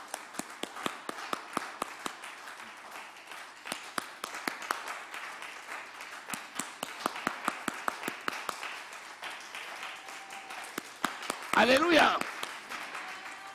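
A church congregation claps hands steadily and rhythmically in praise, a long run of sharp repeated claps under a preacher's voice, with a brief shouted exclamation near the end.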